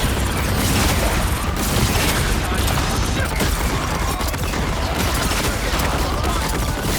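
Rockets fire in the video game Marvel Rivals: a dense, continuous barrage of loud blasts and mechanical roar with no let-up throughout.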